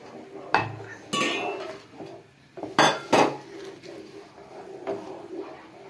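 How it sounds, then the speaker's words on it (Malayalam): Beetroot lehyam with jaggery stirred in a pan with a spoon, with several sharp metallic scrapes and clanks against the pan over a low, continuous cooking background, heard close. "അപ്പം നമ്മൾ തീ കുറച്ചിട്ട് വേണം, ഇത് ഇളക്കിക്കൊണ്ട് തന്നെ നിൽക്കണം"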